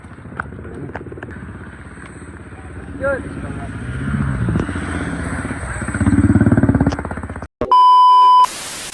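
A Honda Dio scooter engine cranks and sputters in heavy rain without catching, over a steady wash of rainfall, with a voice speaking nearby; a sharp electronic beep tone cuts in at the end.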